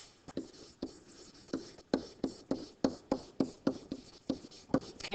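Pen or pencil writing out a chemical equation on paper, a close quiet series of short scratchy strokes in an irregular steady rhythm, each stroke a soft rasp, with no talk over it.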